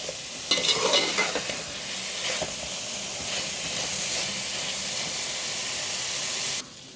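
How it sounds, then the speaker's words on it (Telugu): Chicken sizzles and fries in a thick masala for a gonguura gravy curry, with a steady hiss and a few stirring scrapes early on. It holds steady and close, then drops off abruptly near the end. "మసాలాల్లో చికెన్ కూడా ఫ్రై అవ్వాలి."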